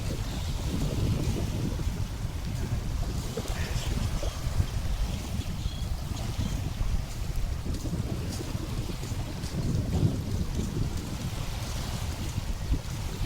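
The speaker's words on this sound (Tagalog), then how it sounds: "Mga bangka po dito niya." Steady wind and water noise by a beach shore with seaweed, with a constant low rumble and lapping waves near boats; no talking.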